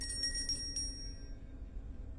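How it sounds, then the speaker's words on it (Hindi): An alarm bell in the video game Granny rings as a faint, rapid metallic trill over low background hum, then fades away. "अब अभी भी घंटी बज रही है यार।"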